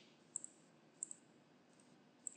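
A computer mouse gives a few faint, sharp clicks, some in quick pairs, while a Java project is worked on at a desk, with a quiet hum between them.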